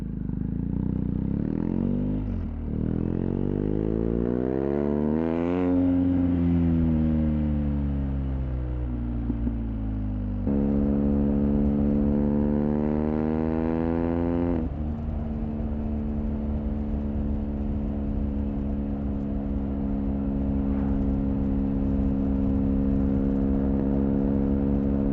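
A BMW R1250R motorcycle runs through an SP Engineering silencer fitted with a dB killer. Close and loud, the engine idles, then blips and sweeps up and down through the revs in several rising and falling pulls before settling into a steady drone.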